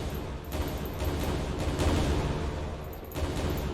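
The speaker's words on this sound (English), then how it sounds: "And now we have explosions" Explosions from an Unreal Engine game, a steady roar of loud, crackling blasts that swell and overlap for several seconds with no pauses.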